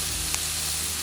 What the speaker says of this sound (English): The sausage is now frying up.